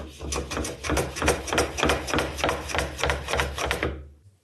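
Fast, steady hammer blows ring out close by in an even rhythm, about two strikes per second, before stopping abruptly.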